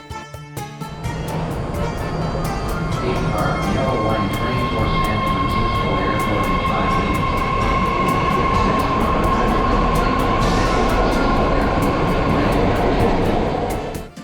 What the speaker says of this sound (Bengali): কিছুক্ষণ পরেই মেট্রো এসে গেল আর আমরাও এই শহরের বাকি লোকজনের মতনই ধীরে সুস্থে মেট্রোতে উঠলাম